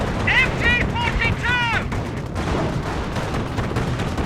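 Machine gun and autocannon fire trade in a dense, continuous battle from the Company of Heroes real-time strategy game, with rapid gunfire rattling throughout and a few whistling incoming shells early on.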